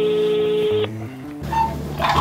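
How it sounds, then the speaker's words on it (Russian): A telephone number being dialed, heard as a series of steady electronic tones that change pitch step by step, followed by a busier burst of line sounds. "Ради интереса, первый номер телефона наберем еще?"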